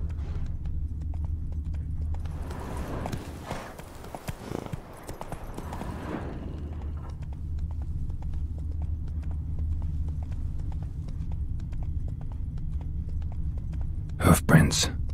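Horse hooves gallop in The Witcher 3, a steady rhythmic clip-clop that continues throughout, briefly overlaid by a burst of rustling noise, with a short sharp sound at the end.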